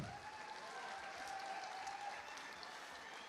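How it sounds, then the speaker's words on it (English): Audience applause at an international agroecology conference, a steady dense wash of clapping from a large crowd that holds evenly throughout with no voices over it. "Another round of applause."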